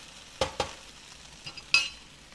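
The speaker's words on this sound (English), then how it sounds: "The okra takes turning and stirring about every minute" Okra fries in a pan on slightly above-medium heat, with a soft sizzle beneath a few sharp scrapes and clinks of stirring, two close together early, then a couple more near the end.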